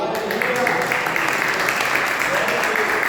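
Church congregation applauding in praise of the Lord, a dense, steady wash of many hands clapping at once, loud and continuous throughout, with voices mixed into the crowd noise.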